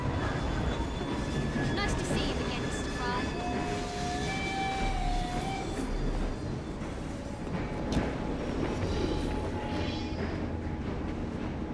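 A train in the video game Assassin's Creed Syndicate rumbles steadily along the tracks with continuous clattering and a brief metallic squeal partway through, a loud, constant noise that persists for the whole stretch.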